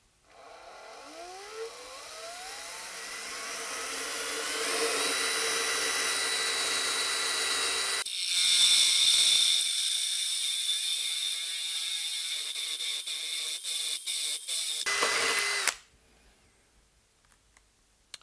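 A Bosch drill in first gear bores a 55mm hole through a 40mm worktop, a steady mechanical whir that grows louder, then changes to a harsher grinding as the cutter bites, ending abruptly after about fifteen seconds.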